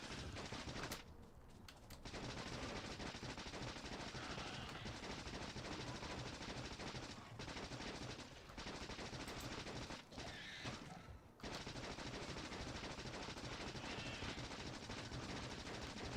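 Turrets in the Factorio video game firing at biters, a dense, loud, continuous rattle of rapid gunfire that barely lets up, with only a few brief dips in the barrage.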